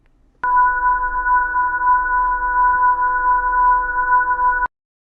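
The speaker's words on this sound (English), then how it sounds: "This is the LIGO gravity wave recording data from the September 14th, 2015 event, which was a collapse of two black holes together." LIGO gravitational-wave recording of the September 14, 2015 black hole merger, rendered as audio with a simple filter, plays as a steady synthetic hum with a faint low rumble beneath, starting and stopping abruptly.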